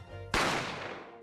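A single gunshot in The Great Ace Attorney Chronicles, one sudden loud close bang that rings out and fades over a second, following quiet low background music.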